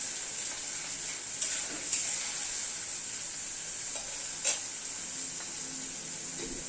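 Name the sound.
stirring and sautéing tomato masala paste in pan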